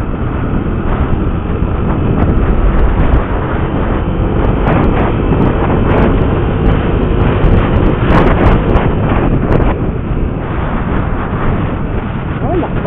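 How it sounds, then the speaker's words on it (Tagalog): Strong wind roaring across a microphone during a night motorcycle ride in Quezon City, a steady, loud buffeting rush that fills the whole stretch. "Hangin"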